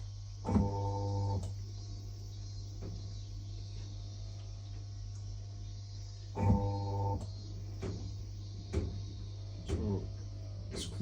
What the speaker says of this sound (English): After taking off the water, it's going to spin and requesting for another water to rinse it.